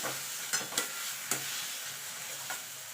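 Bean bharta being stirred and mixed with crushed fried dried chilli, a steady soft scraping texture broken by several sharp spoon knocks against the pan.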